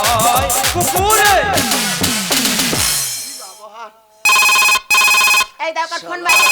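A telephone ringtone chirps in several loud, evenly spaced bursts on stage at a Gajan folk theatre performance, coming in after a stretch of singing and music.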